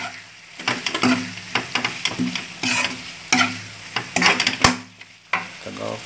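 Spiced buffalo heart frying in a pan with pepper powders while being stirred, a constant sizzle punctuated by repeated scraping and clacking of a utensil against the pan, close and fairly loud.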